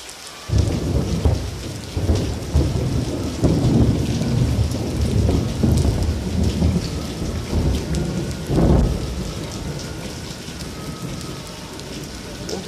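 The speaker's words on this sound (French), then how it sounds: "merci l'orage" Heavy rain pours down steadily through a summer supercell thunderstorm, with loud rolling thunder cracks rising out of the downpour, close and full, and no voices.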